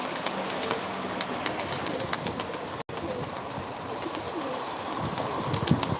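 Pigeons at a live pigeon auction in Ankara coo and flutter amid a busy indoor hubbub, with soft calls and sharp clicks scattered throughout at moderate loudness.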